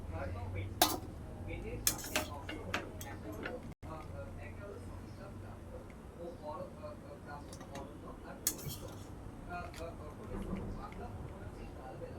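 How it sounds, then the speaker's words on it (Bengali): Boiled mango lifted out with a strainer brings clinks of metal utensils against a pot, scattered scrapes and taps heard close, while a person talks over most of it. "যে ছাঁকনিটা নিয়েছি এবার ছেঁকে তুলে নেব।"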